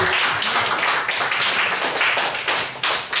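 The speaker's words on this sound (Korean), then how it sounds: "우리 하나님께 영광의 박수 올려드립시다." A church congregation applauds in praise of God, a dense continuous wash of many hands clapping at once, loud and sustained, filling the room without a break.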